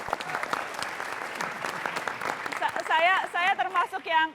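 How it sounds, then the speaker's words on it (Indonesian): An audience applauds a guest on a stage talk show, with dense clapping that fades as a voice speaks over the end. "Kita kasih tepuk tangan untuk Cak Kardi"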